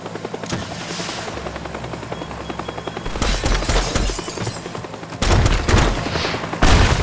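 Rockets fired in the destruction game Teardown: a steady helicopter-like drone and rattling fire, broken by three loud, booming blasts that come in close succession in the second half.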